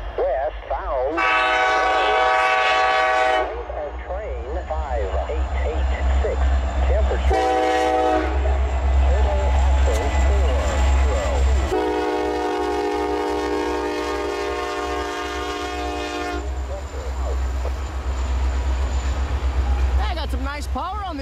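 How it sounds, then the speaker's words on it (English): A westbound CN L571 freight train rolls past in Iowa, sounding its horn in several long, loud blasts over the steady rumble of locomotives and cars. "Got the westbound CN L571."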